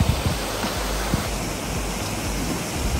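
A waterfall near a cave pours steadily in the background, a continuous broadband rush with no voices.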